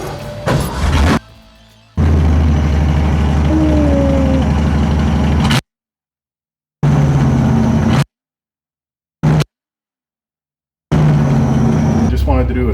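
A 1967 car's engine rumbles loudly and close by in several separate bursts, broken up by abrupt stretches of total silence.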